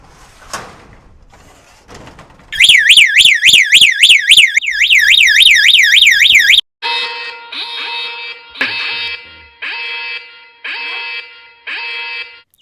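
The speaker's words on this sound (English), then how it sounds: "it's purely going to set the alarm off for the shed" A loud electronic shed alarm siren wails in rapid rising-and-falling sweeps, then switches to a pulsing beeping alarm that repeats in steady bursts, all close and piercing.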